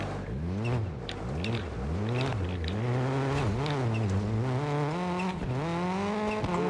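Rally car engine in EA Sports WRC on PS5, a WRC2 Monte-Carlo stage, revving hard with rising and falling pitch as gears shift, loud and continuous throughout with tire noise underneath.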